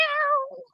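A cat lets out a single drawn-out yowl, loud and close, with a falling, wavering pitch that fades out after under a second.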